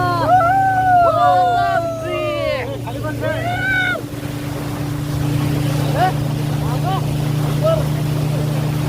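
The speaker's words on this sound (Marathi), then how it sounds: "मित्रांनो बोटिंग चाललेलं आहे" A boat crossing a lake in Munnar, Kerala, drones with a steady low engine hum, while voices call out and whoop over it early on.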